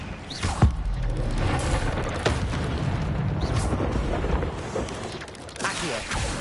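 An Incendio fire spell is cast in Hogwarts Legacy with a sharp burst, then a sustained roaring, crackling rush of flame that swells and fades over several seconds before a second whooshing burst.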